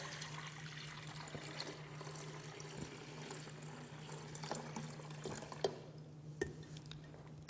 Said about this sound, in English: So I'm going to fill it up with some nice cold water.